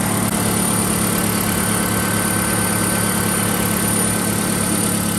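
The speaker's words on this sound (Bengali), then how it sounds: "আমি আপনাদেরকে এখন গাড়ির ইঞ্জিনটা একটু দেখাবো, এই যে বনট খোলার পর এ হচ্ছে গাড়ির ইঞ্জিনের" A 2019 Toyota Esquire Gi Hybrid idles with the bonnet open, giving a steady, continuous low engine hum with even vibration and no one speaking.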